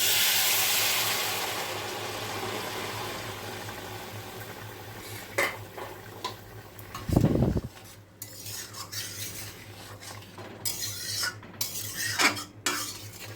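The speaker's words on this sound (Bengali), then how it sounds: "এখন আমি উপর থেকে গরম জলটা দিয়ে দিচ্ছি।" Hot water poured into a pan of lentil curry with fried lentil cakes, a dense hiss at the start fading out, followed by scattered utensil clinks, one brief bubbling gush, and several sharp metallic taps, close by and without talk.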